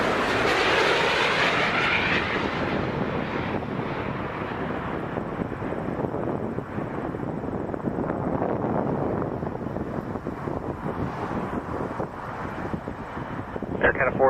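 A Dassault Falcon 7X business jet arriving at Toronto Pearson, a broad roaring engine rush that swells loud early then holds as a steady rumble with wind buffeting, while someone talks over it.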